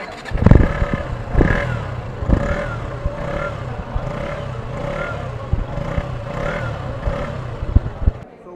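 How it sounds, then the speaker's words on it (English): A KTM Duke 125 motorcycle engine idles and revs, with repeated throttle blips rising and falling over a steady low exhaust rumble, close and fairly loud throughout with no voices. "अभी exhaust note सुनने का टाइम आ गया है, तो जल्दी से सुन लीजिए"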